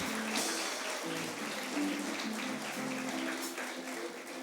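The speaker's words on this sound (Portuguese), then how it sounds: "Eu queria uma salva de palmas também bem calorosa para todos os membros de VCs" A church congregation gives a warm round of applause for small-group members, broadband clapping sustained throughout with a faint musical tone beneath.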